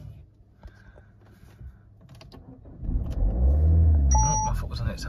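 Car engine revved with the foot on the accelerator, a deep rumble swelling up after a few seconds of quiet clicks and cabin beeps, loud and close from inside the car while someone speaks.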